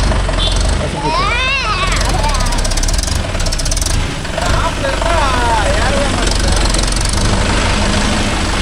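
A Mahindra Yuvo Tech Plus 585 4WD shuttle-gear tractor engine running loud and close with a steady knocking diesel rumble throughout, while someone talks over it.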